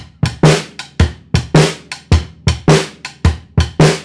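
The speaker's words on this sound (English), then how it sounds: "Just so you can hear what rock and roll groove sounds like" A rock and roll groove played alone on a snare drum, sharp crisp hits in a steady driving pattern with alternating strong and lighter strokes, close and loud throughout.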